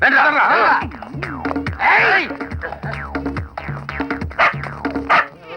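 Dog-like barks, yips and whimpers sound in a Telugu comedy film scene, coming in quick, loud bursts mixed in with people talking.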